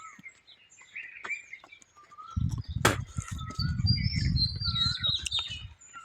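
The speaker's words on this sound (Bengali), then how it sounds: "আর সেই পাখিদের ডাক, কিচির মিচির ডাক।" Birds chirping and squawking on a foggy winter dawn in a village, scattered calls near and far, joined midway by a low continuous rumble underneath.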